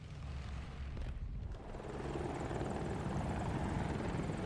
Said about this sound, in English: Alright, let's fly the helicopter a little bit.